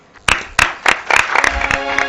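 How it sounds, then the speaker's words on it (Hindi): Studio audience applause welcoming a singer on a TV talent show, starting as sharp bursts of clapping that swell into steady, fairly close applause. "जोरदार तालियों से वेलकम"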